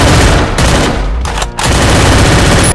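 Loud, dense automatic gunfire from the Free Fire video game keeps firing in rapid bursts, with one brief break midway.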